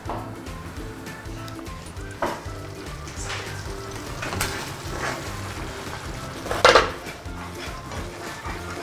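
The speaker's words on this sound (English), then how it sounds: "So we let the tarragon cook for about 2 minutes" Tarragon cooks in a pan over medium heat for mushroom soup, giving a soft, continuous sizzle under background music, with a few clinks of a utensil against the pan and one louder metallic scrape.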